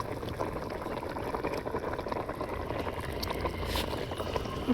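Saag made from mustard greens simmers in a pot, giving a soft, continuous bubbling and hiss that holds steady and fairly quiet with no voice over it.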